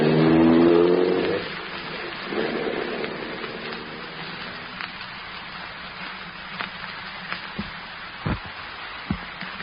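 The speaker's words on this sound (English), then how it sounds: "I got into the car, switched on the ignition, slammed the car into gear" A car engine starts and revs loudly in a radio drama scene at night, then fades as the vehicle pulls away, followed by quieter ambience with a few sharp knocks.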